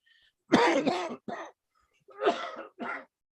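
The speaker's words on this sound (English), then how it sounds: "been having a real bad sore throat with coughing spells" Two separate bursts of harsh coughing and throat clearing from one nearby person with a sore throat, with a short pause between them, during a planning commission meeting.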